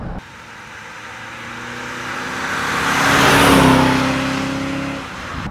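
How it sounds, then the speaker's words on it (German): A 1971 Mercedes 300 SEL 3.5 saloon accelerates hard, its engine note rising in pitch and swelling to a loud peak midway before easing slightly, with steady road and wind roar throughout and no voices. "Also das Auto zieht richtig los."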